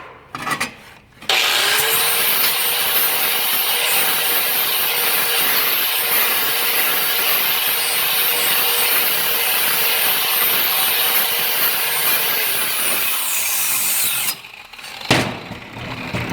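An angle grinder rounds and rolls the edges of thin metal plate for a rat rod project, producing a steady, loud, continuous whine and abrasive rasp for about thirteen seconds, starting abruptly and cutting off near the end.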